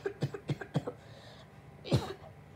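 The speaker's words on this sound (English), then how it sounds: "You're coughing everywhere." Several short, harsh coughs in quick succession, followed by a louder cough or sneeze-like burst, fairly close and quiet overall.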